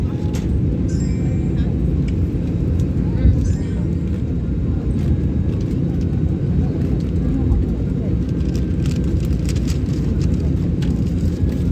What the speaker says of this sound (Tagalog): Papalipad sa Himpapawid.